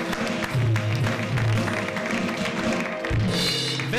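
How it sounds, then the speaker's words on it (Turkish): A television studio audience applauds a guest at the close of a talk show, steady clapping that runs under a low hum of voices and music throughout. "Bir kez daha hocamızı alkışlayalım."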